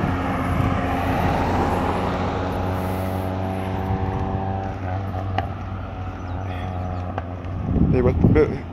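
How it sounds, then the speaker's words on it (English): An airplane engine drones steadily at Grantley Adams International Airport in Barbados, a loud tonal hum that fades over several seconds, followed by a burst of nearby rustling and handling noise near the end. "this is the Grantley Adams International Airport"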